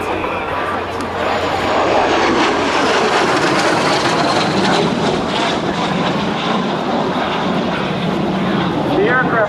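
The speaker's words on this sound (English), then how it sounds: "The aircraft that you are watching today is the L-39C, call sign Bandy 1." L-39C Albatros jet trainer flying at a naval air station airshow, a loud sustained jet roar sweeping past over crowd noise, with an announcer speaking over it.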